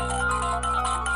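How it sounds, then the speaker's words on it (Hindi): A phone ringtone plays in steady electronic tones, sustained and fairly loud with slight pulsing, no voices. "फोन आ रहा है"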